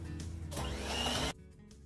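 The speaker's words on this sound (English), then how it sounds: "we'll whisk it again with the blender" An electric blender whisks brown sugar in a bowl, a short whirring burst of under a second that starts and cuts off sharply, heard close against a quiet kitchen.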